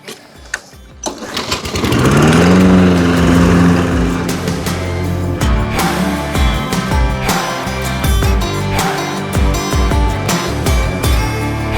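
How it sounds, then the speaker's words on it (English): A lawn mower starts with a rough pull and then runs loud and close, its engine droning steadily with uneven bumps and sputters as it cuts a home lawn. "I'm gonna mow the lawn"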